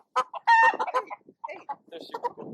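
Chickens on a farm cluck and squawk close by in a busy, overlapping flurry of short calls, with one louder rising squawk near the start, heard during a farm tour.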